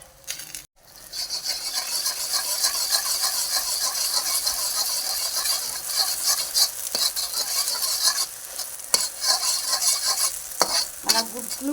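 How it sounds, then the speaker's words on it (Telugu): A seasoned egg mixture fries in hot oil with a loud, continuous, close sizzle that starts abruptly after a brief pause. Scraping and stirring noises appear toward the end. "కోడిగుడ్డు ఇలా ఫ్రై అవుతుంది కదండి."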